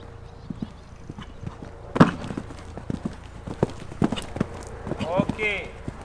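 A horse gallops around a jumping arena, its hooves striking in a quick, uneven clip-clop rhythm at moderate distance, with a brief snort or whinny near the end and a rider or instructor speaking in the background.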